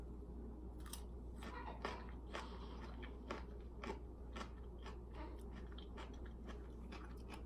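Close, crisp crunching bites into a dill pickle followed by steady wet chewing, repeated crackles in an irregular rhythm over a quiet room hum.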